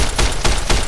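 Three evenly spaced, loud gunshots from Fallout: New Vegas, fired inside Vault 34, crack out in quick succession, each a sharp burst with a short tail.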